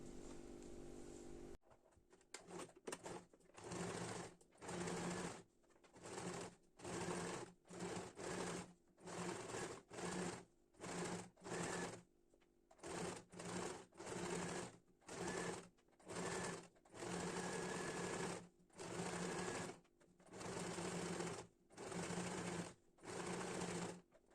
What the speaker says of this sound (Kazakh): Екеуін қосып зигзагпен тігіп алатын боламын